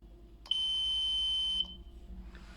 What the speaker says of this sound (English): The alarm was tested, as you can see here.